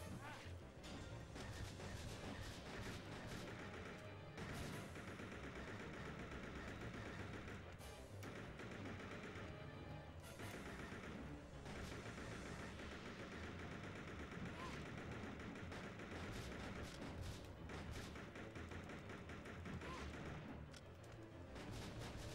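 Machine gun fire in the arcade-style shooter Resident Evil Survivor 2: loud, dense, sustained bursts of automatic gunfire packed with crashes and booms, running continuously with no pause.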